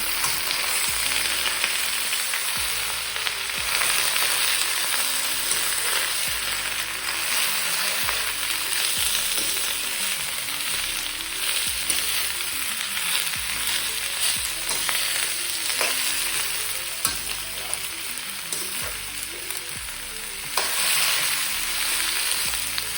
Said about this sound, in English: Then I'm going to put all this vegetable in the pot. Then stir.